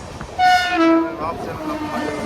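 An express train horn sounds in a short blast over the rumble of a passing train, then fades into rail noise, heard from aboard an AC three-tier coach.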